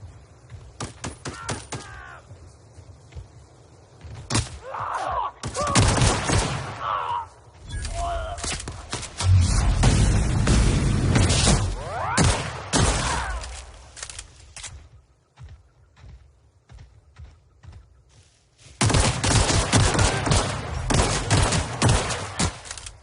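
Gunfire in The Outer Worlds video game comes in loud rapid bursts and fusillades separated by quieter gaps, with some game voice sounds between volleys.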